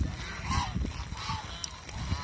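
Domestic geese kept on a farm honk repeatedly at close range, their calls overlapping in uneven bursts against a faint outdoor background.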